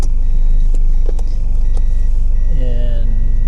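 A Toyota Hiace van on its first drive after an ECU swap, a steady close engine drone and road rumble running throughout, with a rising whine near the end and voices faintly mixed in.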